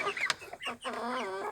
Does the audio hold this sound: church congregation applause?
no